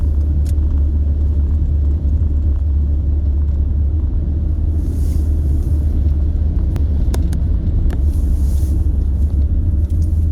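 Heard from inside a car driving along a road, a steady, loud low rumble of engine and tyres continues without a break, with a few faint clicks and rattles.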